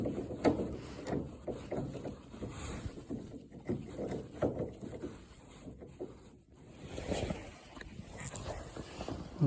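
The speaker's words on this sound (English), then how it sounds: "Tighten down the screws." Screws are tightened on a GE refrigerator door, giving close, intermittent scraping, rubbing and small ratcheting clicks of a tool turning against metal and plastic, with brief pauses.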